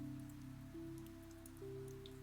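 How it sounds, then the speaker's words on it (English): Steady rain falling at night after a bus stop, a soft continuous patter with scattered drops over a low constant hum, no voices. "Only the rain remained."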